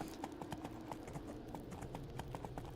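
Horse hooves clip-clopping in the video game Two Worlds, a steady rapid rhythm of hoof strikes at trotting pace over a dense ambient background, close and continuous.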